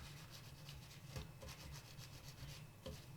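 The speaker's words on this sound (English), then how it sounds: "I've noticed some more grease on the trigger. Let's give that a little bit of a clean." Faint, close rubbing and wiping as grease is cleaned off the trigger inside a G&G Predator airsoft gearbox, a soft continuous scratchy friction with a couple of small clicks, quiet and with no voices.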